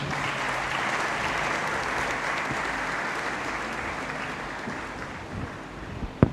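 A crowd applauds steadily throughout a university graduation ceremony in a great hall, a dense wash of clapping that thins slightly toward the end, with one sharp louder clap near the close.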